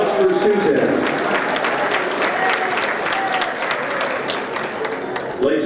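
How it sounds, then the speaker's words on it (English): An audience at a spring committee meeting gives a round of applause, sustained dense clapping that fills the room, loud and steady before tapering slightly, with a voice briefly audible at the edges. "Big round of applause for Susan."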